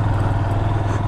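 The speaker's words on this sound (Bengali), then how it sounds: "শুধু বাইকের আওয়াজই আমি পাচ্ছি" A motorcycle engine drones steadily and close on a road through hilly forest, a continuous low mechanical hum with no pause.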